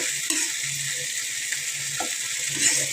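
Tomatoes frying in oil with no water added, giving a steady, close hiss and crackle with faint stirring scrapes underneath, with no voices.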